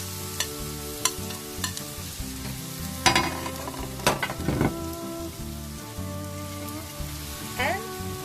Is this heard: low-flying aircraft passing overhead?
no